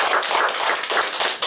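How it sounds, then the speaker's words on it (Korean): Dense, steady applause from a church congregation fills the space continuously, with many hands clapping at once and no voices over it. "오늘도 함께 해주신 주님께 감사의 박수 영광의 박수 크게 합니다"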